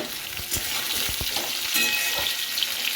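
Pieces of pointed gourd (potol), coated in salt and turmeric, sizzle and crackle in hot oil in a home kitchen, a continuous close fry with a few sharper pops and stirring knocks.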